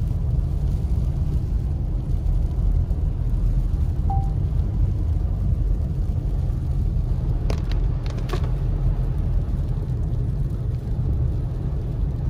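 A car drives a road through Moon Ridge in Big Bear, California, during a winter snowstorm, producing a steady low engine and tire rumble heard from inside, with no talking.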